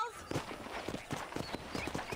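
Horse hooves clip-clop in a steady, even rhythm in the video game Red Dead Redemption, fairly close and moderately loud, with speech running alongside.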